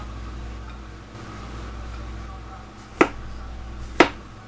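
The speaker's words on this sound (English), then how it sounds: "we just cut the slices about like so" A knife cuts through cucumber slices on a board for a micro herb salad, giving two crisp, close chops about a second apart over a quiet room background.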